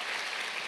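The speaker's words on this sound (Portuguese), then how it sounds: "pode aplaudir Jesus" A church congregation breaks into applause during a worship service, a dense, steady wash of clapping from many hands that fills the whole short moment without a break.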